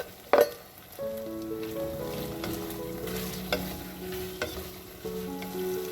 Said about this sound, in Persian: گوجه به موادمون اضافه میکنیم و مخلوط میکنیم و میذاریم با هم یکم تفت بخوره.